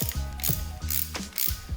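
A hand ratchet clicks loudly as it works bolts free on a Yamaha R6 sport motorcycle, several quick ratcheting strokes in a steady back-and-forth rhythm, close up with no voices.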